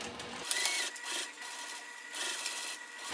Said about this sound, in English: I'm sewing as close as I can without going over the lining